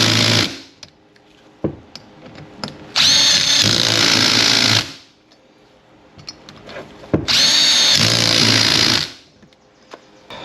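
A power drill drives screws into a 2.5-inch leveling kit strut mount for a 2021-2024 Ford F150, two long loud whirring bursts of about two seconds each, separated by quiet clicks and handling noises.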